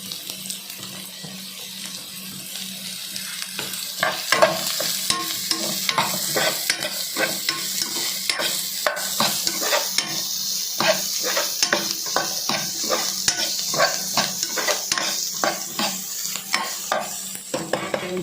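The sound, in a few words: squid chilli with capsicum stir-frying in a pan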